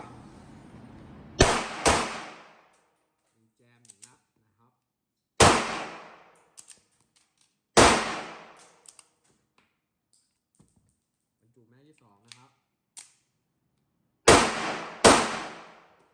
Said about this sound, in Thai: ลองยิงดูนะครับ